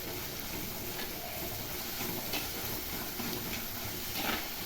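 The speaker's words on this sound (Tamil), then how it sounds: "தக்காளி கொஞ்சம் வதங்கிடுச்சு." Tomatoes sauté in a pan with a continuous, fairly quiet sizzle and hiss. Faint stirring scrapes come through at intervals, and no one speaks.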